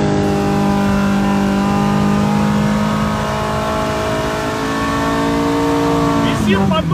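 A loud drift car engine roars close by at a winter drift competition, its revving pitch rising and falling steadily as the car drives past, with tire noise at the end.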